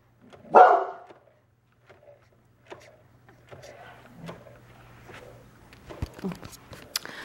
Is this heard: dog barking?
yes